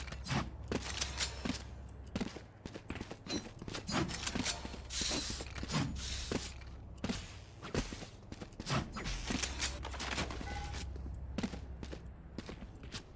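Weapon reloading in the Valorant shooter game: repeated mechanical clicks, clacks and ratcheting snaps at low volume, mixed with footsteps and scattered gunfire-like taps over a low steady hum.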